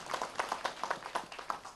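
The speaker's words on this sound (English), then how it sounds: "Please clap for yourself, because that is the truth" Head teachers from Coast Province in Voi clapping for themselves at an address, a light scattering of hand claps with a loose uneven rhythm, fairly faint and distant.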